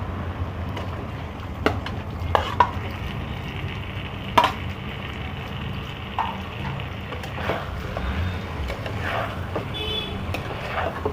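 Cauliflower frying in spice paste in a pan for phulkopir korma, a low steady sizzle with scattered clacks and scrapes of stirring, close and moderate in level.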